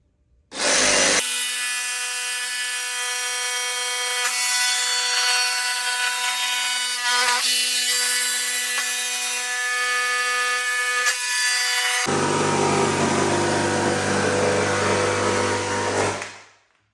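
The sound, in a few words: jigsaw cutting an opening in a hollow door for a cat door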